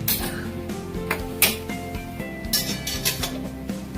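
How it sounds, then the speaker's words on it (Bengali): A metal karai wok is set down on a gas stove in a home kitchen, giving a few light metallic clinks and knocks over a steady background hum. "কড়া চাপিয়ে দিলাম।"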